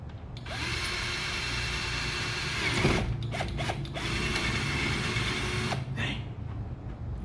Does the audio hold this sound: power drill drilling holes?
yes